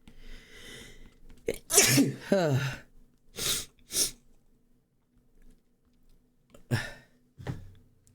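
Several sharp sneezes burst out in quick succession, close and loud, with a couple more following after short pauses.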